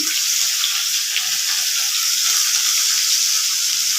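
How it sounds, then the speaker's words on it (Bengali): Potatoes frying in oil with salt and turmeric: a steady, bright hiss and sizzle holds evenly throughout, close and continuous with no voices. "এবার আলুটা ভেজে নেব"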